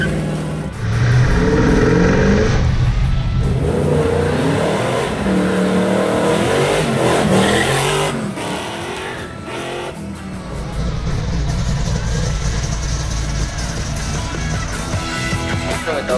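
A restored 1969 Chevrolet Camaro SS V8 runs loud and near, its engine revving up in strong sustained surges, easing off briefly, then climbing again.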